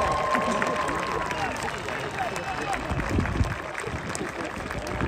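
Audience applause and crowd noise at a high school athletic Hall of Fame induction honoring a state champion hockey team, steady clapping with voices and cheering mixed throughout.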